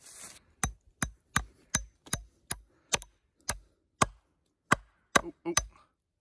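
Nails driven with the hammerhead of a SOG camp axe outdoors, about a dozen sharp, ringing metallic strikes at an uneven, roughly half-second rhythm, close and loud with short pauses between blows.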